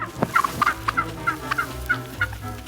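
Wild turkeys give a string of short, clear gobbling calls, close and fairly loud, spaced in a steady, irregular rhythm over the whole span.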